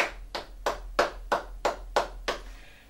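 Eight evenly spaced rhythmic hand claps from a church congregation acclaiming the Lord during an intercession service, moderately close and steady, with a low hum underneath and no talking.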